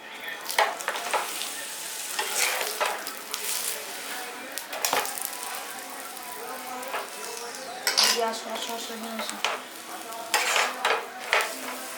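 An aloo paratha fries in oil in a pan, with a steady sizzle running throughout and repeated scraping and clinking of a utensil against the pan, with no talking.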